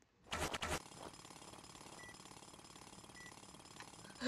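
Jackhammer pounding on a plate in the Roblox game Plates of Fate, a loud rapid burst up front, then a steady chattering drill rhythm that continues under a game background to the end.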